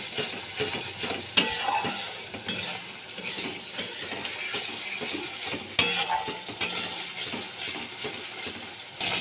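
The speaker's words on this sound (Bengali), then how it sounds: "এখানে আমি হলুদ দিয়ে দিচ্ছি, নুন দিয়ে দিলাম, ভালো করে আমি মিশিয়ে নিচ্ছি" Mustard paste being stirred in a pan with turmeric and salt while cooking pabda fish, a steady scraping of a spoon against the pan with scattered clicks and a soft sizzle underneath, close by, with no speech.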